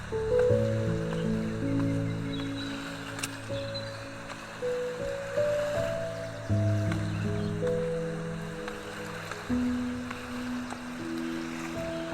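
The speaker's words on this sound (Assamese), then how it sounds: "পানীৰ শব্দ কেনেকুৱা পাইছে?" River water flowing in Manas National Park, a steady broad rushing wash under a low droning hum that runs the whole time.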